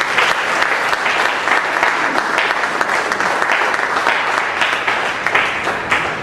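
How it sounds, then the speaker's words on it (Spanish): A church congregation breaks into sustained applause during a sermon on the Lord's Prayer, many hands clapping loudly and continuously without pause. "por favor, un aplauso al Señor."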